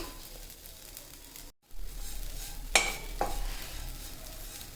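Moong dal halwa is stirred and broken up in a pan while it cooks, giving a steady low sizzle with scraping strokes and a brief pause, heard close and with no voices.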